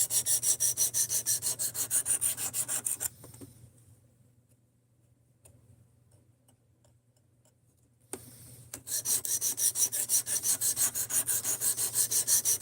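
Knife sharpened on a fixed-angle sharpener: quick rhythmic rasping strokes, close and loud, run for about three seconds, stop for a quiet pause, then resume with the same steady back-and-forth scraping to the end.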